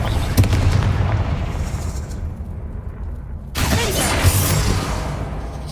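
A Confringo spell detonates in Hogwarts Legacy during a fight with spiders: two sharp, loud blasts a few seconds apart, each bursting into a crackling roar that fades.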